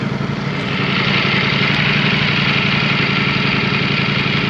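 A 2024 Ducati Streetfighter V4 motorcycle engine runs nearby, a loud, steady, rough mechanical drone at an even pitch without revving.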